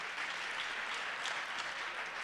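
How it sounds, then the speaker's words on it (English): A church congregation claps during a sermon, an even sustained roll of many hands from a large crowd, moderately loud and unbroken, with no speech over it. "clap if you need to clap."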